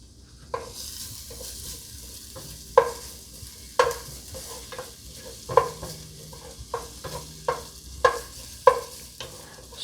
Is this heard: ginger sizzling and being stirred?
yes